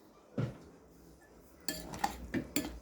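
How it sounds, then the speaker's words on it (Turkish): A spoon scrapes and clinks against a pot while yogurt is slowly stirred into bulgur pilaf, a few separate metallic knocks standing out over a quiet background. "yavaş yavaş çeviriyoruz"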